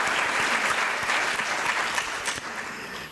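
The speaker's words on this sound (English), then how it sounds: "let's give her a round of applause" Audience at a religion and medical ethics symposium applauds a guest, a dense, steady burst of clapping that stays loud and even before tapering slightly at the end.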